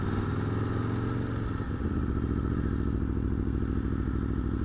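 An Aprilia Tuono V4 Factory, a 175-horsepower naked motorcycle, running close by with a deep, rough rumbling engine note that holds steady with a brief dip partway, no speech.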